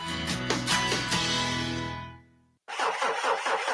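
A car engine cranks and turns over as a sound effect in a radio ad, a loud churning start that fades into near silence before a brief burst of rhythmic mechanical noise resumes, with no voices.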